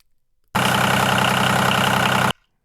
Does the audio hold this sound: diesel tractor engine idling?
yes